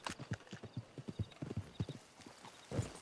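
Horse hooves clip-clop in a steady, fairly close rhythm in a roleplay video game, with a louder thud near the end.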